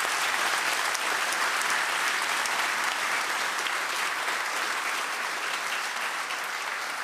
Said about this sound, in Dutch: Ja, een hard applaus